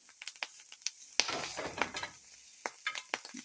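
Steady sizzling and crackling of wild mushrooms frying and charring in a hot pan, with scattered pops and a few scrapes of a utensil stirring.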